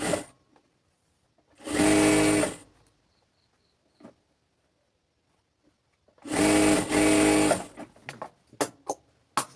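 Two loud sewing machine bursts stitching the side seam of pant pajamas, each lasting under a second, separated by quiet, followed by a few short clicks and taps of handling.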